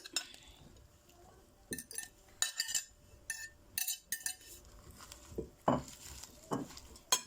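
Minced meat and potato gratin ingredients being mixed in a bowl with a utensil, producing a series of close, irregular scraping, stirring and clinking strokes with brief pauses between them, no talking.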